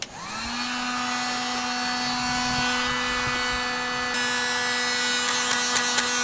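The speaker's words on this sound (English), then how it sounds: "So we're going to use the heat gun to warm it up." Electric heat gun running steadily to warm a vinyl tube on a Hot Springs Grandee hot tub, a continuous loud motorized whine and blowing hiss that starts abruptly and holds for several seconds close by.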